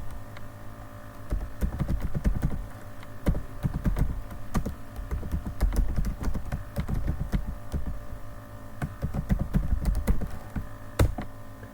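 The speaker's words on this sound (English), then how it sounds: "Let's type it again." Code being typed on a computer keyboard, a continuous run of soft, uneven key taps and clacks at close range over a faint background hum, with no speech.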